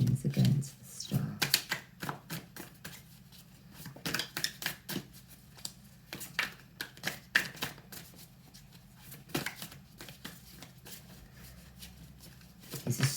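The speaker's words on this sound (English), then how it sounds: "This is so hard to shuffle." Tarot cards being shuffled by hand, giving irregular bursts of crisp riffling clicks and slaps across the whole stretch, close and fairly loud, with brief speech at one point.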